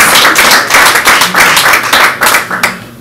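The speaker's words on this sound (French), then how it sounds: "Nous allons applaudir pour lui." Audience applause for a Congolese music star at an excellence award ceremony, a loud, dense burst of clapping across the whole stretch that thins out toward the end, with no talk over it.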